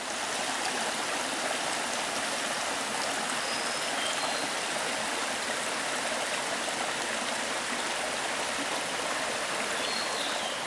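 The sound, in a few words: stream water running on a hike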